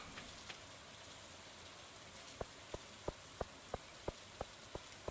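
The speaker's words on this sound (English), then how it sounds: "But I'm looking at all the rain." Steady soft rain patters in Stardew Valley, a faint even hiss under a series of sharp, regularly spaced ticks in the second half, with no one talking.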